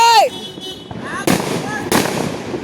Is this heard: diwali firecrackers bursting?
yes